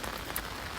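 Steady rain falls on the first wet day of the monsoon in Dahanu, a dense, even hiss of drops hitting surfaces, close and continuous with no voices.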